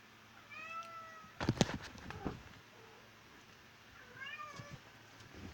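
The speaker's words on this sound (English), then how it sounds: "my cat wants to do something" A cat meows several times close by, with drawn-out, wavering cries and some soft bumping in between.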